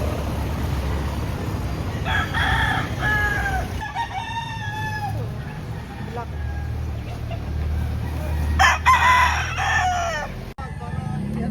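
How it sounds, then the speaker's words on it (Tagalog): Several roosters crow loudly in overlapping calls amid chickens clucking at a chicken market in Lipa, Batangas, over a steady background rumble with occasional voices. "Dami naman yan dalang manok."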